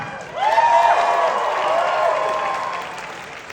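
A crowd at a Halloween Horror Nights panel at Midsummer Scream breaks into applause and cheering, a dense wash of clapping that swells quickly and then tapers off.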